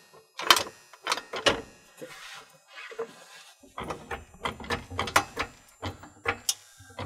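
Floor jack pumped in repeated strokes to raise a Class B van at the front, with ratcheting mechanical clicks and clunks in uneven bursts, fairly close and alone.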